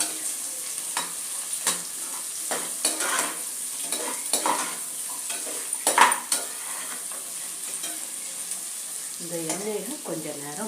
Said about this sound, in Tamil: பீன்ஸையும் கேரட்டையும் போட்டு இது ஒரு அஞ்சு நிமிஷம் வதக்கிக்கலாம்